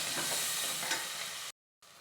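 Onions with mustard seeds and cumin frying in hot oil, a steady close sizzle with faint stirring, cut briefly by a short silence before the sizzle resumes.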